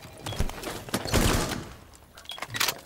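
Rapid bursts of gunfire from a Rainbow Six Siege match, several sharp volleys clustered near the start and middle with a quieter gap, then a final burst at the end; loud and close, no talk.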